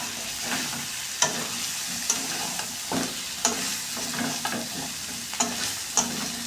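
Chicken pieces stir-fried in a pan, kosha style, sizzling steadily up close while a spatula scrapes and knocks against the pan in irregular strokes, with no talking.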